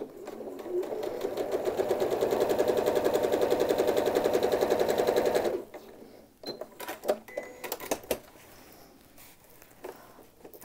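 A sewing machine with a walking foot stitches a quilt in a steady, rapid mechanical patter for about five seconds, then stops, leaving scattered handling clicks and soft rustles.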